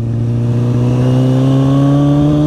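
A loud stunt motorcycle engine revs hard and holds a steady, rising roar close by, with no voices.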